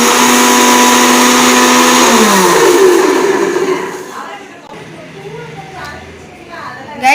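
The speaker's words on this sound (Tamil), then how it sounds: "இப்போ வந்து சர்க்கரை அரைச்சிக்கலாம்" Mixer grinder running loud and steady as it grinds sugar, its motor whine holding constant for about four seconds before winding down and stopping, leaving quieter kitchen sounds.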